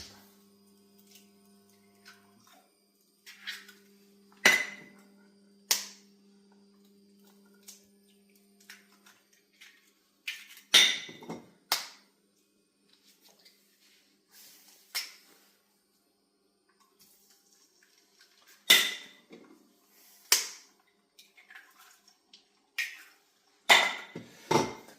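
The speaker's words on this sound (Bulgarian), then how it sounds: "ползваме олио от гроздови семки. И чупим яйцата." Eggs cracked into a pan of grape seed oil, heard as scattered sharp clinks and knocks of shell and cookware against a faint steady hum, with no talking.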